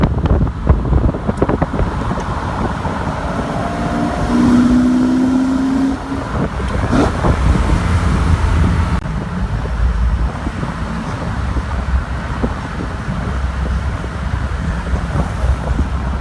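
A 1972 Jaguar E-Type V12 Series III roadster with a 7.0-litre V12 accelerates on the road. The engine rises under heavy wind rush, heard steadily from inside the open car.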